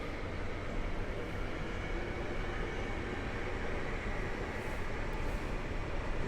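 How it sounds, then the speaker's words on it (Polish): A Koleje Mazowieckie FLIRT electric multiple unit passes a Warsaw Zachodnia platform, a steady loud broadband rolling roar holding evenly throughout with no talking. "I przed nami flirt kolei mazowieckich z Warszawy Wschodniej do Błonia"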